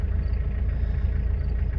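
The 3.1 diesel engine of a 1997 Isuzu Trooper idles with a steady, low, even rumble just after starting, alone and without talk.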